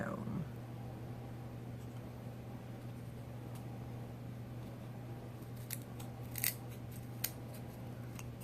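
Scissors snip material for a DIY shadow box, a few faint, sparse cuts heard over a steady electrical hum with no talk.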